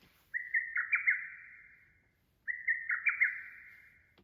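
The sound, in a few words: lesser cuckoo (hototogisu) calling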